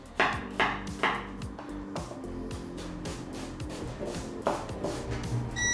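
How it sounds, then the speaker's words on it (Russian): A knife finely dices onion into small cubes on a cutting board for fish cakes, giving a run of sharp, close chopping taps that come quickly at first and then sparser and lighter, with no talking. "Нарезаем наш лук мелким кубиком, очень мелким"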